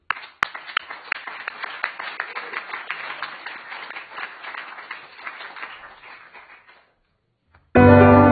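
Applause from an audience at a Sunday seminar with flag returns and grantee presentations: a burst of clapping, fairly close, that tapers off over about seven seconds into silence, followed by a sudden loud noise at the end.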